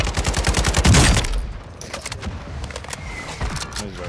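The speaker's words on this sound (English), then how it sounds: "Mortar strike on the way." Mortar strike explosions in Call of Duty: Modern Warfare II, a loud dense barrage of booming blasts and rapid gunfire-like bursts peaking early, then continuing as scattered cracks and rumbles.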